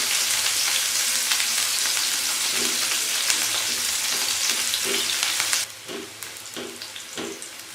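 Onions hit hot oil in a pan for a home-style Indian potato dish, giving a loud, close, roaring sizzle that drops to a softer crackle partway through, with light stirring knocks.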